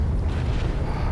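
A ship explodes in the space game Elite Dangerous after taking heat damage near a sun, a loud sustained low rumbling blast that fills the whole moment with deep roaring noise.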